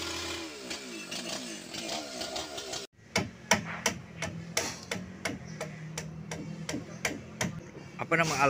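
Wooden boat hull being shaped with a rimbas adze, about a dozen sharp, evenly spaced chopping strikes on wood ring out close by, following a few seconds of talk and engine-like noise.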